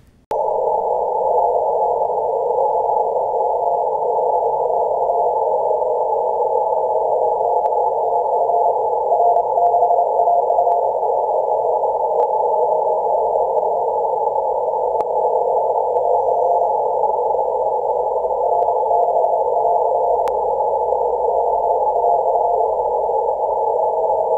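Morse code received on a radio comes through as a steady, unbroken tone at one pitch. It holds for more than twenty seconds over faint hiss, with no speech.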